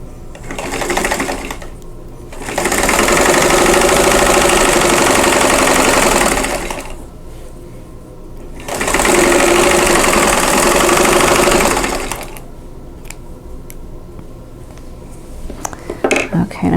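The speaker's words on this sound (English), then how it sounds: "I'm going to sew on that drawn line" A sewing machine stitches along a drawn line on a quilt block seam, running in two steady, loud bursts of several seconds each with quieter pauses between them.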